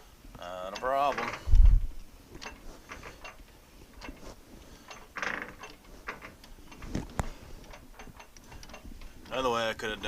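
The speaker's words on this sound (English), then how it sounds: "we'll just grab the old trusty sterret and we'll just hand tap her" A tap wrench hand-turns a tap to cut a thread, giving scattered light ticking and ratcheting clicks at an irregular pace, with a few louder knocks and handling noises.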